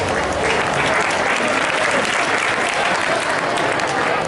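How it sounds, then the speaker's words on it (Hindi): Loud, sustained audience applause welcoming schoolgirls at a government girls' school bicycle distribution event, dense continuous clapping from a large crowd throughout, with no speech over it. "जोरदार ताली, करतल ध्वनि से स्वागत कीजिए अपनी बहनों का"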